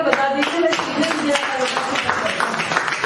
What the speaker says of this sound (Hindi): एक बार कोई 2-4 लोग तालियां बजा दीजिए।